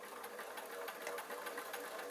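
A home sewing machine stitches two layers of fabric together for a small tooth pillow, giving a quiet, steady, rapid whirring buzz with no pauses.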